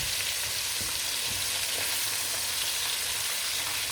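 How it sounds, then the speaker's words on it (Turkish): Fish frying in a pan at home, a constant loud sizzle and crackle of hot oil running throughout, with no talking. "Bunları ben balkonda kızartacaktım"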